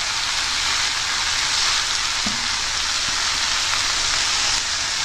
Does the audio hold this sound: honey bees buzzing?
no